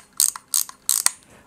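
The mechanism of a compact, heavy Robot analog film camera fires three times in a row. Each firing is a loud ratcheting clack with a quick rattle, followed by a sharp final click, heard up close with no voices.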